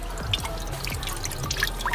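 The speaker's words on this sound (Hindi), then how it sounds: "ये बलून है मतलब पानी से भर रहे हैं भाई" Water running through pipes into a batch of Holi water balloons, a continuous trickling and dripping with fine splashes over a steady low hum, close and moderately loud.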